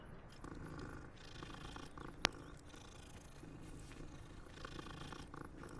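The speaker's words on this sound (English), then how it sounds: "I must pet the cat." A cat purring steadily while being petted in Hogwarts Legacy, a low continuous rumbling purr set in a soft game ambience, with one brief sharp click partway through.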